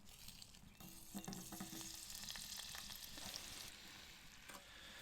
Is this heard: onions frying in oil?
yes